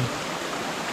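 Rising flood water rushes in, a steady broadband roar like a fast stream, close and constant with no talk over it.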